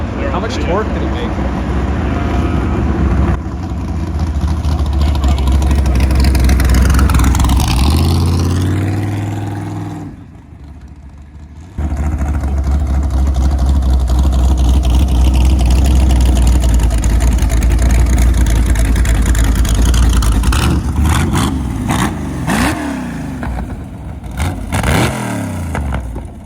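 A 383 stroker V8 swapped into a Volvo revs loudly and rises in pitch, drops out briefly around the middle, then resumes a steady rumble with a slight hesitation, while people talk nearby.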